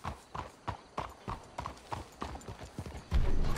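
Horse hooves clip-clop at a steady trotting rhythm in Red Dead Redemption 2, about a dozen crisp, moderately loud hits, with a louder thump at the end.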